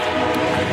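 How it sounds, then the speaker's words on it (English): An Amtrak Downeaster train at Exeter station, New Hampshire, gives a loud, steady rumble with tonal hum from the railcars, close by and sustained through the brief moment with no talk. "So I just got off the train and I just arrived in Exeter."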